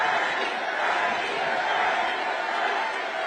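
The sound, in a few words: crowd at Bernie and AOC rally in Los Angeles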